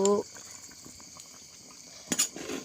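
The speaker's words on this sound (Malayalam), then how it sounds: "അങ്ങനെ നമ്മുടെ മീൻകറിയൊക്കെ തിളച്ചു" A pot of coconut-based fish curry bubbles on the stove with soft popping. A few metal clinks and brief kitchen clatter come near the end.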